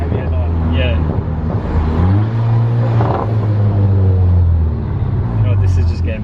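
A Golf GTI's engine revs and accelerates in a steady, loud rumble, the pitch rising as it pulls, with the occupants talking over it.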